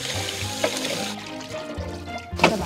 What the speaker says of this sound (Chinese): 去把蛋洗一下。